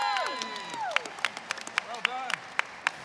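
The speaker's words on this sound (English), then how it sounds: "A round of applause, please." A small group applauds and cheers after a correct trivia answer during a tabletop Witcher role-playing session, sparse claps punctuating whoops and excited voices, with people chattering throughout.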